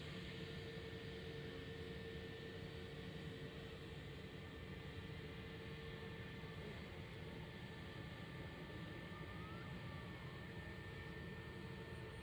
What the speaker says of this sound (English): Ryanair landing from Budapest, Hungary